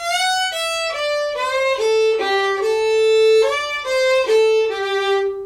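A fiddle plays a short descending phrase of a tune, clear sustained bowed notes stepping downward and repeating, close and solo with no talking.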